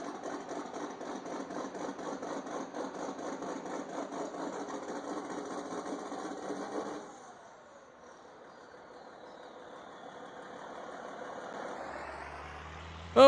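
A John Deere 4640 tractor in Farming Simulator 19 idles with a steady, rapid mechanical chatter, then drops to a quieter hum midway before swelling again and ending with a short loud thump.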